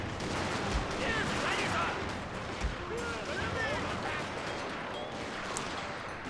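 Musket volleys crackle and boom in the Total War: Fall of the Samurai battle game, scattered distant gunfire and thuds layered beneath someone talking throughout.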